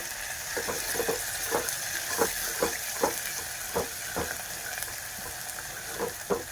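Curry leaves and ground cumin crackle in hot oil in a home kitchen, a steady sizzle broken by sharp spitting pops every half second or so, close and fairly loud with no talking.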